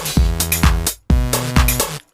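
A simple synth bass line programmed in Ableton Live plays twice, each time as a few sustained, rich, buzzy notes with punchy attacks, loud and close, separated by a brief gap.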